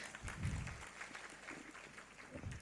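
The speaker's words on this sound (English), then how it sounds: "Can I have a big round of applause for our..." A symposium audience applauding, a continuous moderate patter of hand claps from a room of people, fairly even throughout.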